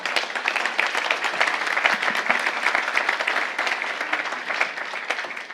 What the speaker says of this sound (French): Si vous voulez bien applaudir nos intervenants.